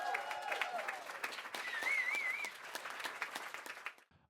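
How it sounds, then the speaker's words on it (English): An audience applauds steadily for a few seconds for presenters at a Three-Minute Thesis competition, a dense patter of many hands clapping that fades out at the end. "Let's have a huge round of applause for all of our presenters."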